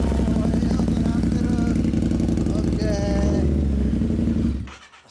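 A Harley-Davidson Street Glide motorcycle engine with an aftermarket exhaust idles loudly up close with a deep, throaty exhaust rumble that fades out at the end.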